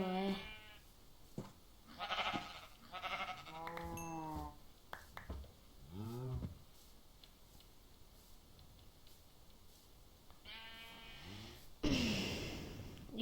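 Minecraft sheep bleat several times in quick succession, close and clear, with a few quieter game sounds between the bleats and no speech.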